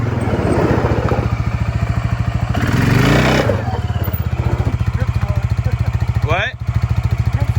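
A 2000 Suzuki Quad Master 500 ATV idles with a fast, even thump, then revs hard for about a second during a burnout, with clattering and a brief squeal before it settles back to idle.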